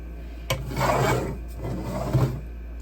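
Excess material being cut away around a backer in a small craft workshop, heard as two close rasping, scraping strokes, each about a second long, with no talk.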